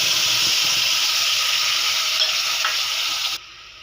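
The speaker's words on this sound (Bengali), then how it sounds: "ঘিটা গরম হয়ে গেছে, শুকনো লঙ্কা আর সর্ষে দিয়ে দিলাম। দিয়ে দেব সেদ্ধ করা জলপাই।" Dry chillies and mustard seeds sizzle loudly in hot ghee, a dense steady hiss close up that cuts off abruptly near the end, no voices.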